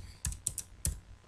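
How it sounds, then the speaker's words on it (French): Keys on a computer keyboard, including the Enter key, are pressed in a short run of about five crisp, close clicks separated by brief pauses. "Je valide par la touche Entrée du clavier."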